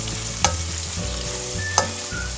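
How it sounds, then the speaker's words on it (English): Onions and garlic sizzle in two pots for Pakistani dinner curries, a steady frying crackle with two sharp clinks of a utensil against the pot, no voices. "While the onions being cooked, I'm going to add the garlic"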